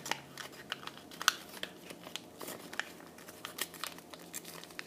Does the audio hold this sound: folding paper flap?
yes